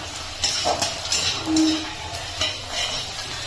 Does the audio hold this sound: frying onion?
yes